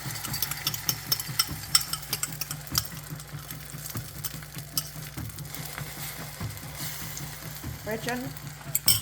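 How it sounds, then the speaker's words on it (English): An egg cooks in a pot while being scrambled, rapid rhythmic scraping and tapping of a utensil over a soft sizzle, close and continuous for several seconds, with faint background voices. "first I'm gonna cook my egg"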